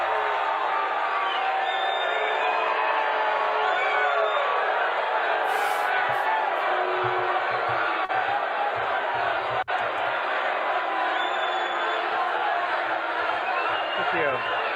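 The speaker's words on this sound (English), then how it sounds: "So they're booing." Large convention crowd booing Trump at the Libertarian National Convention, a steady dense roar of many voices with scattered shouts and whistles, continuous throughout.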